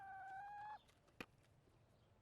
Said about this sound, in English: Miss Odette, she's a Brahma.